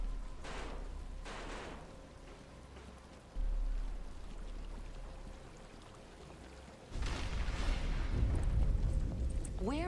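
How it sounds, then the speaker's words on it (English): Rain begins falling in the Batman Arkham Asylum video game, with a steady wash of rain that swells suddenly louder, under faint voices and some low rumbling. "But it's starting to rain."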